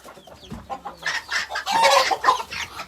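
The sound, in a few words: chickens and roosters clucking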